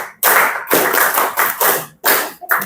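A classroom of students claps hands together in a counted pattern, loud, close bursts grouped into several sharp clusters separated by brief silences, uneven as if not everyone keeps time.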